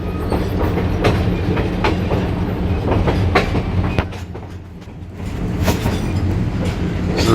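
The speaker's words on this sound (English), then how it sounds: "So nothing like the motion of a train." A train rolls steadily as heard from aboard a car, with rhythmic clickety-clack of wheels, creaks and clunks over a constant low rumble, close and fairly loud.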